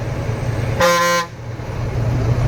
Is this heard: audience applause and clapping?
no